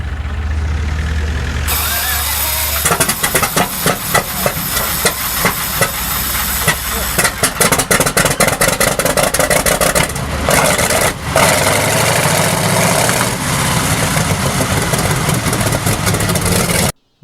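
An M4 Sherman tank engine runs loud and steady, a dense hissing roar with a rapid rhythmic chugging that builds after a quieter start and holds close and continuous to the end.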